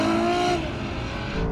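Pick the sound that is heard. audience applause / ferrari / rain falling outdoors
ferrari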